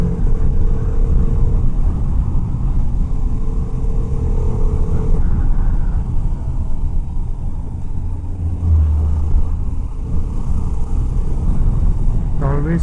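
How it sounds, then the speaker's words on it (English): A bus overtakes on the road during a group motorcycle ride, a loud rumbling engine sweeping past close by amid steady road and wind noise, with people speaking over it. "It always scares me when a bus overtakes like that."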